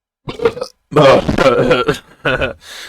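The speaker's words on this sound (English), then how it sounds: "Sorry, I burped." A loud, drawn-out burp lasting over a second, preceded and followed by shorter throaty vocal bursts, close to the microphone.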